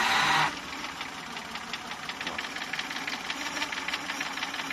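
A Suzuki F6A engine idles after timing belt work, with a steady rhythmic ticking knock pulsing close by, after a brief loud hiss at the start.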